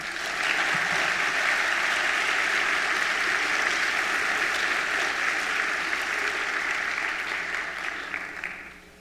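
A large audience at a high school senior assembly applauds steadily for about nine seconds, a dense sustained wash of clapping that holds level and eases off only at the very end.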